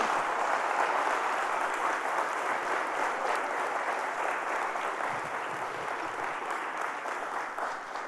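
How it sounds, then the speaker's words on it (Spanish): A church congregation applauding during a Sunday service, steady dense clapping that holds throughout and eases off slightly toward the end, fairly distant and moderate in level. "Dale un fuerte aplauso a Jesucristo"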